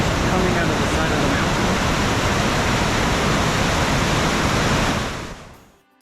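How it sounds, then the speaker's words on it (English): Water gushing out of a groundwater spring in the canyon cliffs at Niagara Springs, Idaho, a loud, dense, continuous roar heard up close that cuts off sharply at the end. "the water actually originates from a groundwater spring within the cliffs themselves"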